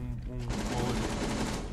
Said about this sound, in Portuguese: Quem é trocando o tiro aí?